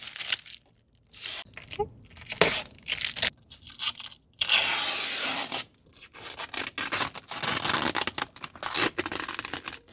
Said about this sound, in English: peel it off the carpet, put it off to the side, and we're gonna make a big pile of all the plastic we removed